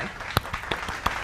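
A few sharp hand claps at a children's home cooking class, spaced irregularly over a second or so, close and fairly quiet, with no talking.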